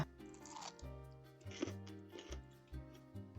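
Crunchy bites into fried Japanese tonkatsu, a breaded pork cutlet sprinkled with Maldon salt; faint, close crunching and chewing sit under soft, steady background music tones.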